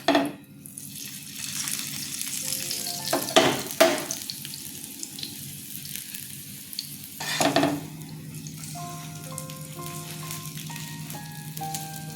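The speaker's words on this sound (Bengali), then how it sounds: "তা ভাজা হয়ে যাচ্ছে" Aloo paratha frying in a pan: a steady close sizzle runs throughout, broken by a few sharp bursts of stirring or flipping, with no voices.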